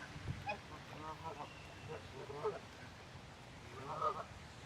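A flock of geese honks along a path in several short nasal bursts spaced a second or two apart, fairly faint against quiet outdoor background, with a person talking softly between them.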